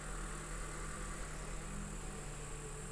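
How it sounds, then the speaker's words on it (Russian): Steady low engine rumble of an approaching tractor, continuous and fairly even, with a constant mechanical drone and no voices. "Едет наш трактор."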